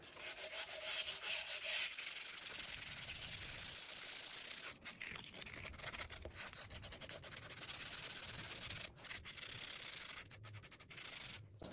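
Fine sandpaper rubs steadily along the wooden neck of a Gibson SG bass during reprofiling, a continuous close, fairly loud rasping with brief pauses and shifts in stroke, no talking.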